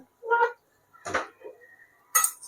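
Stuffed eggplants, pan-fried on low flame for about ten minutes, being flipped over in a pan, giving three separate clattering bursts of utensil against cookware, close and moderately loud with short pauses between.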